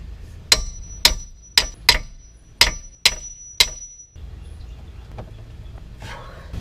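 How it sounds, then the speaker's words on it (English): Seven sharp metallic hammer strikes on a wrench loosening seized brake caliper bolts on a Toyota Corolla ring out at an uneven pace, each with a brief clang, followed by quiet handling noise. "I usually tap the wrench with the hammer and it usually gets it loose"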